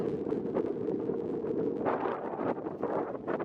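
Steady wind buffets the microphone on a trail near Claerwen Dam in the Elan Valley, Wales, a continuous low rumbling roar with gusts that swell and ease, no voices present.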